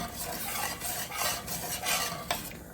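A utensil scrapes and stirs across the bottom of a pan of roux, making a steady rasping and sizzling texture with rhythmic strokes and no talking.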